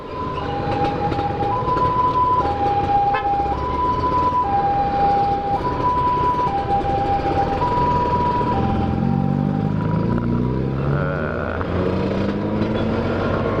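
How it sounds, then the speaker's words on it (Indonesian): An ambulance siren wails in a steady two-tone pattern throughout, loud and continuous over heavy road or rail rumble, shifting pitch near the end as the ambulance passes. "ada ambulan belakang gue nih"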